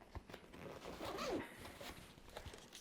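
The zipper of a Tenba Solstice 24L camera backpack is drawn closed in a short, close rasp, with light handling bumps around it.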